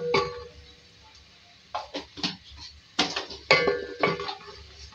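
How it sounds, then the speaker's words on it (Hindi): Ginger garlic paste frying in a pan comes through as clustered scrapes and clinks of a utensil against the pan, with a faint sizzle between the bursts of stirring. "इसमें ऐड करें अदरक लहसुन का पेस्ट एक खाने का चमचा। इसको फ्राई करेंगे।"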